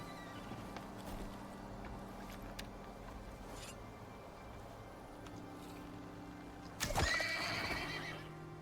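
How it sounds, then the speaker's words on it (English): A horse in the survival game ICARUS lets out a sharp, loud whinny near the end, after quiet stretches of faint hoof clops and low ambient hum, with no talking. "Another horse here."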